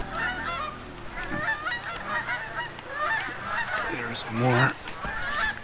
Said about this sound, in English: Flocks and flocks of Canada geese